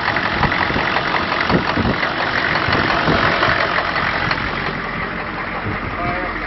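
A diesel Suburban engine fitted with glow plugs, called the TurboWheezle, runs at a loud, close, steady rough idle with a knocking clatter, and a voice is heard over it.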